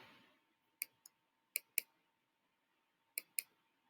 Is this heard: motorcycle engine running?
no